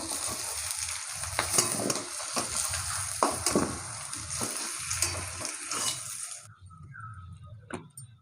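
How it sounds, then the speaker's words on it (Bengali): Potatoes frying in oil in a pan, a steady close sizzle with a few clattering stirs that cuts off near the end, leaving quiet with one faint knock. "এই যে আলুগুলো ভালো করে ভেজে নিয়েছি আলুগুলো এখন তুলে নেবো"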